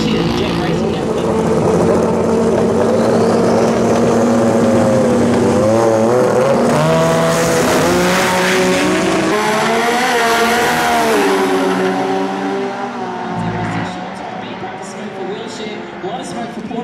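A Nissan drift car at a winter drag racing event revs hard, its loud engine rising and falling in pitch with tire screech and crowd noise, while an announcer talks over it throughout.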